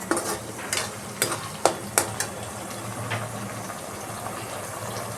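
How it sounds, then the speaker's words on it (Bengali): Boiled eggs that were fried beforehand go into curry masala and are stirred, a run of sharp spoon-on-pan clinks early on over a low steady sizzle, close by and with no talking. "অলরেডি ভেজে রেখেছি সেইগুলো আমি দিয়ে দিচ্ছি এর মধ্যে।"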